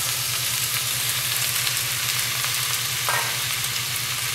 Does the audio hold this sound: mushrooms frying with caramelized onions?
yes